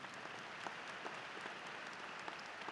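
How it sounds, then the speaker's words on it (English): Sustained applause from a graduation audience honoring school board members, dense steady clapping throughout with no speech over it. "How about a round of applause for our board members?"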